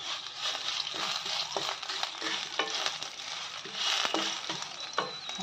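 Sesame seeds and cumin spluttering in hot oil while making ridge gourd peel chutney: a dense, steady crackling sizzle with frequent small pops, close and continuous throughout with no speech.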